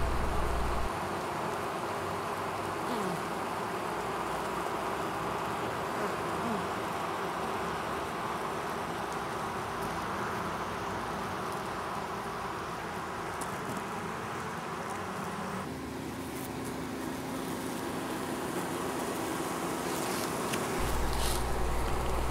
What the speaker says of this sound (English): I'm going to pick up the drone bee and show him to you now.